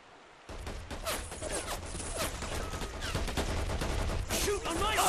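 Bursts of infantry gunfire and rattling automatic weapons erupt in the Men of War war game, loud and dense, rising steadily with overlapping shots and shouted game voices in between.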